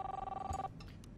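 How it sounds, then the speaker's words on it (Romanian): Telephone ringing in the video game Life is Strange, a single electronic ring tone that cuts off partway through, followed by faint background sounds. "Telefonul."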